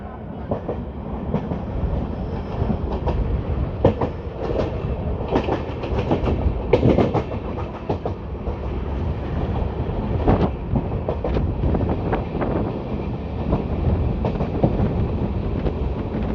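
Hoshiarpur–Agra Cantt Express with LHB coaches running along the main line toward Ambala, a steady loud rumble with rhythmic clickety-clack of wheels over rail joints and wind buffeting, heard from on board.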